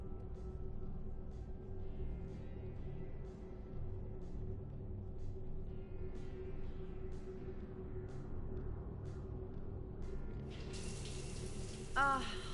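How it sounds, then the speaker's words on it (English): A shower running in the Mass Effect 3 video game, a steady water spray with a low rumble running throughout and a brighter hiss swelling near the end. "I figured you'd be more interested in a shower."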